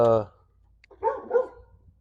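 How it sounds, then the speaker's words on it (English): A neighbor's dog barks a couple of times at a distance, short muffled woofs following a brief stretch of speech nearby. "My neighbor's dog."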